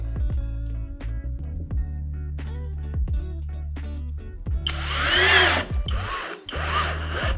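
A power drill bores screw holes into a DIY case-fan testing box. It whirs in several short bursts that rise and fall, then a harsher, louder grinding run comes near the end.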